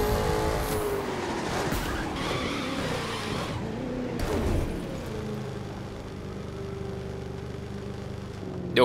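A car in The Crew 2 racing game drives with a continuous engine drone and tyre noise, shifting in pitch with a couple of brief sharp bursts, then settling into a steadier hum.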